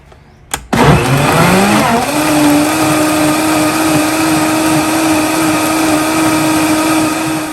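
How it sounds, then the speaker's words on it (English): A blender cup of tomatoes, liquid and chilies whirs to life after a click, then settles into a loud, steady high-pitched motor drone. "adding all the tomatoes in here into my blender cup, adding the liquid and the chilies, and I'm going to blend away for 5 minutes"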